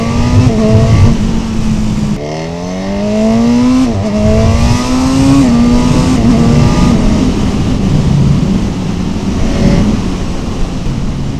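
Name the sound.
Honda CB1000 Hornet SP motorcycle accelerating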